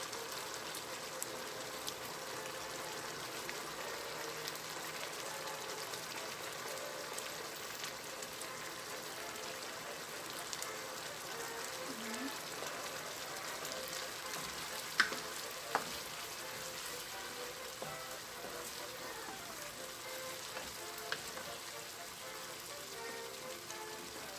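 Creamy garlic mushroom pork simmering in a pan after all-purpose cream is poured in, giving a steady soft sizzle and bubbling with a few faint clinks, no talking.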